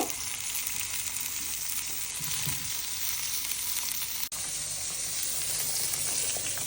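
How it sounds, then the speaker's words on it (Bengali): Pointed gourd (potol) fries in a pan with a dense, constant sizzle that stays loud and even, apart from one brief dropout partway through. "এই রান্না প্রায় শেষ এখন এই যে আমি পটলটি ভেজে নিব"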